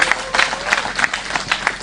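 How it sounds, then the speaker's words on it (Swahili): A crowd applauds at a Kenyan political address. The clapping is dense and continuous, with rhythmic bursts of louder claps, and no voice is clearly heard. "Pigieni baba makofi mazuri"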